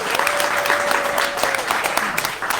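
A conference audience at a business event gives a loud, dense round of applause for the morning's speakers, with quick overlapping claps filling the room throughout.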